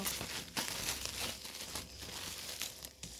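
An online-store package being opened, close crinkling and crumpling of plastic wrapping with a few sharper tearing rustles, quiet and continuous, no talking.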